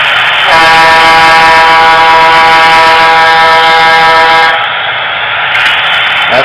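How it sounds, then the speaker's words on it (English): A foghorn-style horn from an Athearn gas turbine model locomotive blares as one long sustained chord of stacked tones, loud and steady for about four seconds before cutting off, leaving a quieter hum. "F2 is the horn. This is, if you like anyone that likes foghorns or anything, this is the horn for them."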